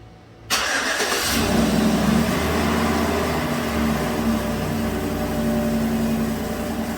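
A 2011 GMC Savana van engine cranks and catches after a brief quiet moment, then settles into a loud, steady idle nearby.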